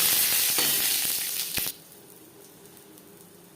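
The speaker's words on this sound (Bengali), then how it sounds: "লঙ্কা ভেজে নেওয়ার পর দিয়ে দেব ছোট হাফ চামচ গোটা জিরে একটা" Whole cumin seeds, a bay leaf and dried red chillies fry in mustard oil, giving a loud, dense sizzle that breaks off abruptly partway through, leaving a quiet hiss with a few faint clicks.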